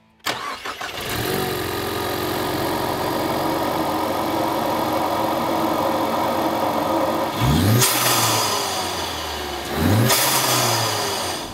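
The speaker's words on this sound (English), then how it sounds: "You can really hear the JLT pulling air, and then obviously a huge difference is having that blow-off valve vented the atmosphere." A Ford Mustang EcoBoost fitted with a JLT cold air intake and a blow-off valve vented to atmosphere starts, then idles loudly. It revs hard twice, and each rev ends in a sharp turbo blow-off whoosh.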